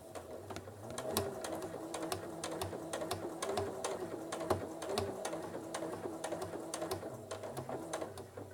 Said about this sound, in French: et là vous pouvez faire votre surpiqûre